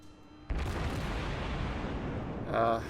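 Warship main guns fire in World of Warships, a heavy booming salvo that swells into a sustained rumble after a sharp onset, with a later burst rising near the end.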